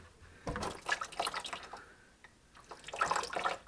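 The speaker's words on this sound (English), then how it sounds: "So this is the heater core again that we're draining now." Coolant draining from the heater core of a Porsche Boxster during a coolant change, with soft trickling and dripping liquid in two close, uneven bursts separated by a quieter pause, and no talking.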